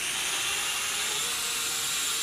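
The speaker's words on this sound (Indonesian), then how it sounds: "Take off-nya manual nih ya, karena ini drone manual." An HX750 racing drone lifts off with a steady, high-pitched propeller whine and buzz that holds evenly throughout, loud and close with no talking.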